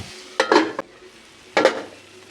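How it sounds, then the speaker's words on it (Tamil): Ginger garlic paste being stirred and sautéed in a pan for Tamil chicken kulambu, with two brief scraping stirs over a quiet sizzle, close and fairly loud, no talking. "எல்லாத்தையும் திரும்ப நல்லா ஒரு கிண்டி விட்டு நல்லா வதங்கணும்."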